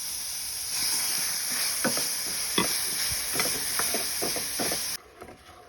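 Strawberries cook in a pan with poured-in liquid for a strawberry pudding, giving a steady close hiss with scattered soft stirring clicks and bubbling before it suddenly drops away near the end.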